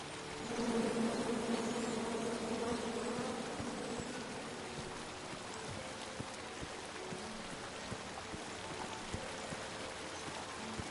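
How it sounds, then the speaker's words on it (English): Angry bees in the King's Quest video game drone in a dense, loud buzz that swells early on and then settles into a steady hum with scattered soft ticks. "And then you chop down the tree full of angry bees?"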